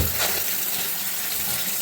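Steady rush of running tap water over fish being washed at a kitchen sink, continuous and fairly loud with no other sounds.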